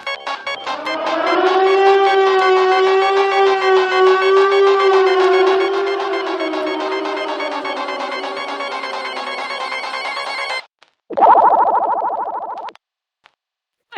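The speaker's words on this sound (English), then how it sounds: "That was a siren." A loud siren-like wailing tone that holds steady for about ten seconds, then cuts out. After a short gap comes a brief second burst in a different timbre, then silence.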